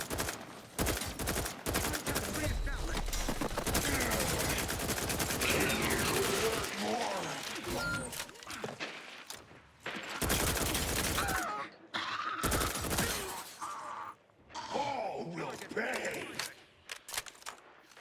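Heavy gunfire in a video game, with dense bursts of automatic fire and explosions alternating with brief lulls, loud and chaotic, mixed with game voice lines and chatter.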